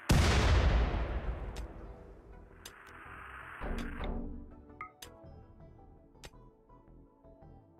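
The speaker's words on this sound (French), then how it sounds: "il suffit d'un obus bien placé, j'en sèche au moins une dizaine" An artillery shell fires in the strategy video game Rimworld with a sharp, loud boom that decays into a rushing tail, followed by faint whistling and scattered small impact clicks in the battle.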